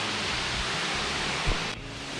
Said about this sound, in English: The sound of the water coming down is just amazing.